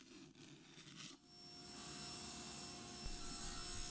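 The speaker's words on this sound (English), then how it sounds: "I'm gonna switch over to a card scraper because that's safer." A card scraper is drawn across patterned plywood in a long, steady scraping stroke, close and fairly quiet, after a brief pause with a few soft handling sounds.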